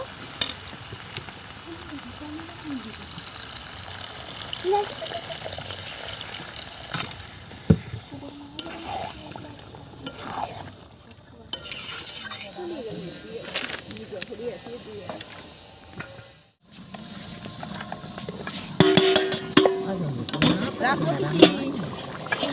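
Water goes into a pan of sautéed potatoes and cabbage, setting off a loud sizzle with scraping stirs and clatter, close up, while people talk over the cooking.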